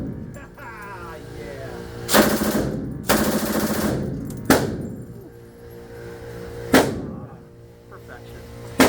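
Heavy PKM machine gun fire in the VR shooter H3VR: several loud, sharp bursts and single booming shots spaced a second or two apart, each trailing off over a steady low background hum.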